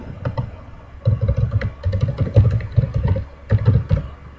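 Typing a URL on a computer keyboard gives a run of soft, uneven key clicks and clatter, steady and close, with no talking.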